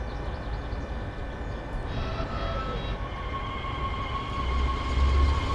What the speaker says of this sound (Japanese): さあ、モーターの音聞こえるでしょうか。